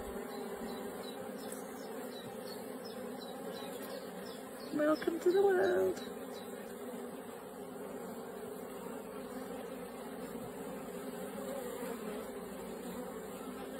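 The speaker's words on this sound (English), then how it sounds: "That's a bee being born." Honeybees buzz steadily inside a beehive as a new bee emerges from its cell, a continuous close hum running throughout with brief speech breaking in midway.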